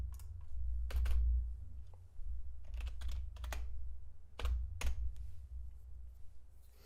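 Quick bursts of clicky typing on a computer keyboard, fairly close, with short clusters of keystrokes separated by pauses over a low steady hum.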